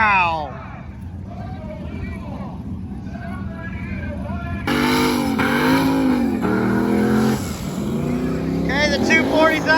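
Drag racing cars, a Datsun-style 240 and a Chevy II, roar at a drag-and-drive event, engines revving loudly then surging as they launch, close and sustained, with an announcer talking over them.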